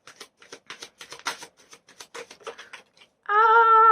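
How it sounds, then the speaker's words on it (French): Tarot cards drawn and shuffled from a deck in a fortune-telling session, a quick run of crisp papery slaps and flicks, close and fairly quiet, ending in a louder sustained tone. "Je vais prendre 2 dernières cartes pour voir."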